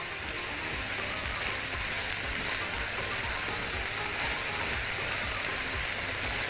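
Rice, lentils and carrots are stirred in a pot for mujaddara, a steady, even hiss and scrape with faint sizzling that runs continuously without any voices.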